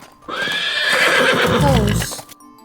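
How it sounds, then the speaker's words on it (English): A horse gives a loud, close neigh lasting about two seconds, rising then falling into a rough, snorting whinny before it stops abruptly. "Horse."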